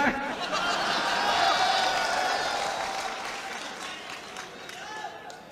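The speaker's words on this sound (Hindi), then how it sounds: "ताली बजा दो याहिया साहब के लिए।" An audience bursts into applause, a dense wash of clapping that starts strong and slowly tapers off over several seconds, with crowd murmur underneath.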